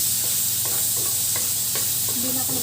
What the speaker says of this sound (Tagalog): Magigisa na ako ng sibuyas, bawang at kamatis.